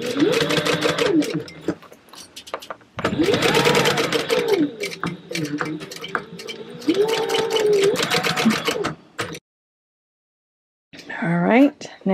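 A sewing machine stitches leather wallet panels in long, steady runs broken by brief pauses, close and loud, with a person talking in between and a short silence near the end.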